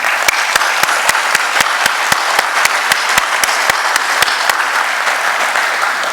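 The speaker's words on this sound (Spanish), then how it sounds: "pido un cálido aplauso también" A large audience at an industrial forum applauds warmly and steadily, a dense continuous wash of clapping with sharp periodic thumps throughout.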